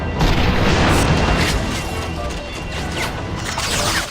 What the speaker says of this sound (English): when they explode, they actually take out some of the robots that are near to them as well